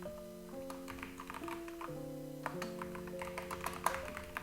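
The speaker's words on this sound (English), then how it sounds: "I'm just typing something very similar as we have here" Scattered soft clicks of typing on a computer keyboard, irregular and fairly quiet, sit beneath steady sustained musical tones throughout.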